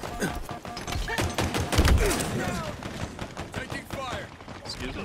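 Gunfire in Halo Infinite multiplayer: rapid bursts of weapon shots crackling in quick succession with a heavier thump midway, dense and fairly loud, with game voices and effects mixed underneath.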